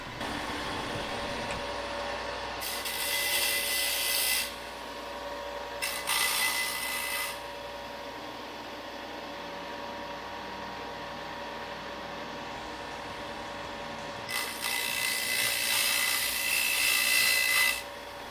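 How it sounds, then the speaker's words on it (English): Metal grinds hissing against a sander in three separate passes, each a few seconds long, as a broken bandsaw blade is shaped into a carving knife, with a low hum between passes. "Now I'm simply shaping this blade with the sander, just trying to get it roughly to shape what I want"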